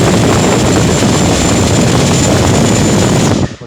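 An FMS F-16 Falcon model jet's 70mm electric ducted fan spins up to a loud, steady roaring whoosh that holds evenly for several seconds, then cuts off abruptly at the end.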